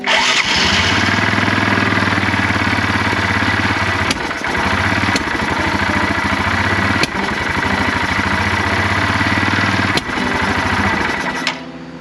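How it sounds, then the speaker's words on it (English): A neglected Yamaha ATV engine runs roughly at idle, loud and close, its uneven drone broken every second or so by sharp backfire pops and brief stumbles before it dies away at the end. "I do not know why it's running so poorly."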